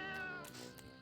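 A cat companion in the action RPG FATE: Undiscovered Realms gives a single short, clear meow, moderately loud and alone without speech.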